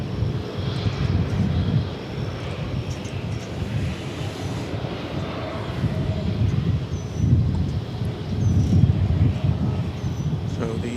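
A Sun Country jet at DFW airport rumbles steadily at moderate distance, a broad low engine roar that swells and eases over about eleven seconds with a thin whine above it.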